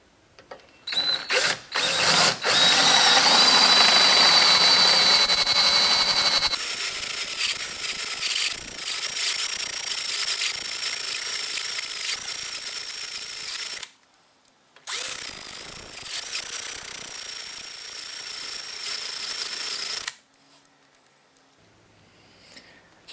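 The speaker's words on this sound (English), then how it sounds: "So I'm going to drill these out." A power drill with a roughly 7/16 bit bores out parts on a 1980 Chevy Silverado's locking hubs, a loud whining grind that pitches down under load, stops briefly, resumes, then cuts off.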